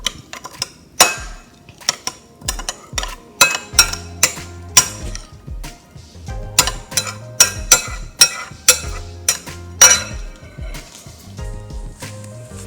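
Utensils clink and scrape against a bowl while spicy Korean lettuce salad is tossed, a steady run of close, sharp knocks and stirring sounds in uneven rhythm with no talking.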